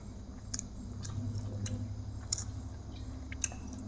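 Someone chewing a Thai meal of rice with bamboo shoots makes soft, close, wet smacks and occasional sharp crunchy clicks over a low background hum, with no talk.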